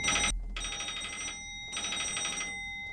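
An old-style telephone bell rings in a horror video game, two long loud trilling bursts separated by a short silence, heard alone with no talk.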